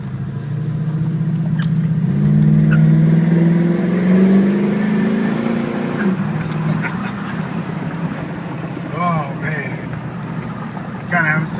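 A 1987 Buick Turbo T driving, its engine rising in pitch as it accelerates and then settling into a lower hum, with a voice talking over it toward the end.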